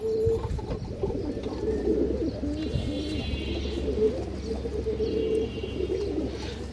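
Pigeons coo repeatedly in low, throaty, rolling calls close by, several birds overlapping with faint chirps in the background and no talking.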